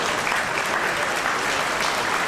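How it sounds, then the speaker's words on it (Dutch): The home crowd at a Fortuna Sittard versus APOEL Nicosia football match applauds a player leaving the pitch, a loud, dense, steady roar of clapping filling the stadium throughout. "Het Fortuna Sittard publiek klapt voor Garcia."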